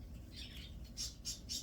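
Pet cockatiel squawking indoors in a quiet room, a few sharp, fairly faint calls in quick succession toward the end.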